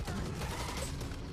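Dense rapid gunfire in the Back 4 Blood video game, a loud continuous burst of overlapping shots filling the whole moment without talk.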